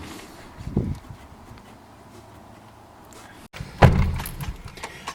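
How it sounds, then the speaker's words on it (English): A fuel cap is pushed back onto a fuel tank during a Magna fuel pump change, giving two close, dull plastic thunks separated by a quiet pause, the second louder and followed by brief handling noise. "so we've popped the fuel cap back on the tank"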